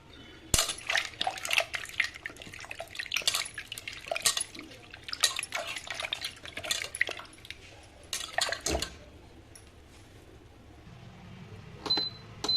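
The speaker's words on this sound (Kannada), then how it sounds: "ಈ ಥರ 2 ಭಾಗ ಮಾಡಿಬಿಟ್ಟು ನೀಟಾಗಿ ವಾಶ್ ಮಾಡ್ಕೊಳ್ಳೋಣ" Cut potatoes are washed by hand in water, with repeated splashes, sloshing and clinks against a vessel in irregular bursts, close up, before it settles quieter.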